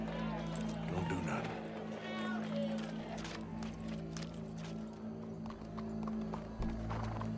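Horse hooves clip-clop in Red Dead Redemption 2, a steady trotting beat heard close over a low, droning game soundtrack with faint voices in the background.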